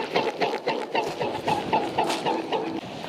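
Swans beat their wings loudly in flight, a rhythmic series of whooshing, creaking pulses about twice a second, close and strong, with no talking.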